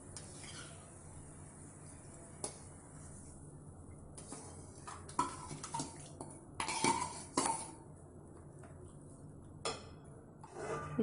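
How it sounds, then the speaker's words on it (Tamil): Quiet clinks and scrapes of a metal spoon against a pot as foxtail millet is tipped into boiling water and stirred, with a faint background hum. "இப்போ இதில் தினை அரிசி நம்ம சேர்த்துட்டோம்"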